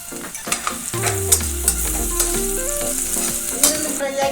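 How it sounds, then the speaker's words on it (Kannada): Onions frying with salt and turmeric in a pan, a loud continuous sizzle with stirring scrapes, overlaid by a tonal sliding hum that rises and steps in pitch, up close with no speech. "ಈರುಳ್ಳಿ ಸ್ವಲ್ಪ ಫ್ರೈ ಆಗಬೇಕು."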